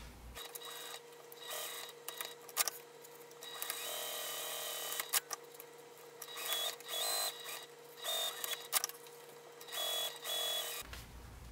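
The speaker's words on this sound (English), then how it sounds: "So I'm going to top stitch 1/8 of an inch away from both sides of this seam." Sewing machine top stitching a seam on a small crossbody bag, running in a string of short mechanical bursts with brief pauses, close and fairly quiet over a steady hum.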